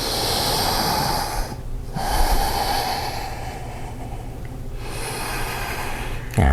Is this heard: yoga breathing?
yes